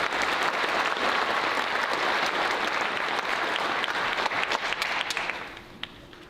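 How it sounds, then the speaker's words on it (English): A large graduation audience at Pueblo Community College Southwest applauds steadily in a dense, sustained wash of clapping that thins and fades out over the last second. "let's give a big round of applause to all these people who make it happen"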